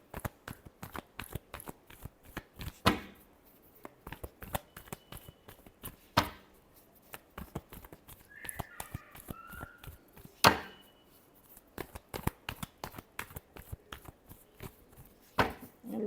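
Tarot cards are shuffled by hand in a quiet room, giving a steady run of crisp, close riffling taps and slaps with a few louder snaps, and no talking.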